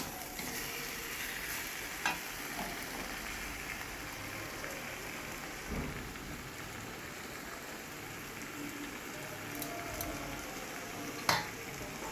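Marinated chicken with potatoes and spices stir-fried in oil, a continuous soft sizzle with occasional faint scrapes and clinks of a spatula, fairly quiet and without voices.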